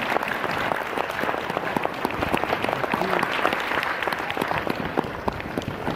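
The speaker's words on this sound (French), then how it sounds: "Et on peut les applaudir encore une fois." Sustained audience applause at a hypnosis show during a magic gala, a dense, steady patter of many hands clapping continuously throughout.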